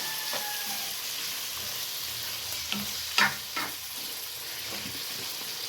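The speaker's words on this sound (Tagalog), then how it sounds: "Yan ating haluin guys. Halo-halo lang." A pot of menudo stew is stirred by hand, with soft scraping and a few sharp utensil clinks against the pot over a continuous low simmering sizzle.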